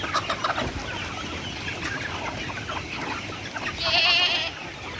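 Chickens clucking at feeding time on a farm where goats are also kept, a steady busy chorus of close clucks with a louder squawk near the end.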